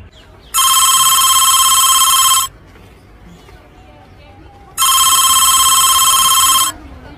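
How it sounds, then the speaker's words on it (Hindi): A telephone rings in two long bursts, loud and close, each about two seconds, with a pause between and faint room noise underneath; nobody answers. "साला करता रहे फोन, मैं भी उठाऊंगा ही नहीं"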